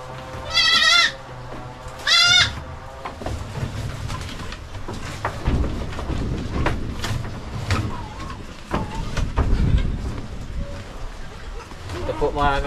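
Farm goats let out two loud, wavering bleats close by, then people talk over quieter farmyard noise.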